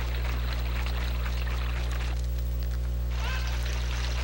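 River water flows steadily in the Ocarina of Time video game, a continuous rushing wash over a low droning hum, with a brief higher swishing effect near the end.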